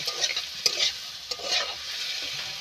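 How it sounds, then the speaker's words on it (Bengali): Chickpea and potato mixture with salt being stir-fried in a pan: a close, steady sizzle with a few sharp scrapes of a spatula against the metal, no voices. "দিয়ে আমি সবগুলো ভালো করে কষিয়ে নেব"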